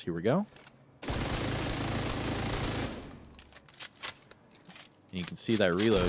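Rapid LMG fire in The Division 2 from a high rate-of-fire Pestilence build, a dense loud two-second burst of shots followed by scattered clicks during a reload, with someone talking before and after.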